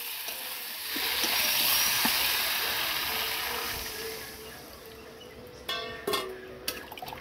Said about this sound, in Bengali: এবার তরকারিটা সিদ্ধর জন্য দিয়ে দেব জল